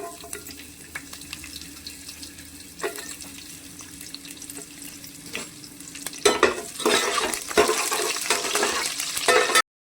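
Garlic dropped into hot oil with cumin for sambar, starting as a quiet low hiss with scattered clinks, then bursting into louder crackling sizzle and stirring for the last few seconds before cutting off.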